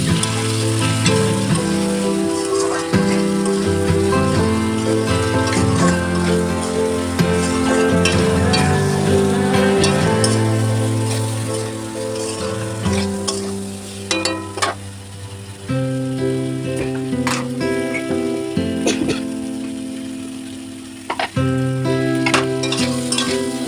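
Spice paste of turmeric, ground spices, chili powder and Kashmiri chili sizzles steadily in a pan while being sautéed for a hilsa fish curry with potato and eggplant, a continuous frying hiss punctuated by occasional spoon clinks, with no speech.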